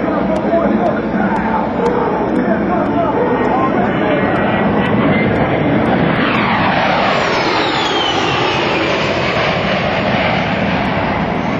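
An A-10 Warthog twin-engine jet making a low pass at an airshow, with a loud continuous roar and whine that sweeps in pitch as it passes overhead, while an announcer talks over it.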